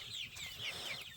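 A solid black chicken with black feet clucks close by in a steady run of soft, chattering calls, with a low rumble underneath.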